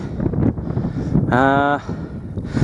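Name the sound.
wind blowing on a hilltop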